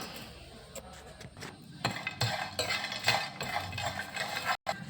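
Whole spices for a mutton curry, including cardamom, cumin, cloves, star anise, peppercorns, mace, cinnamon and bay leaf, tip into a pan, making quiet scattered clinks and light rattles of metal and utensils with no one talking.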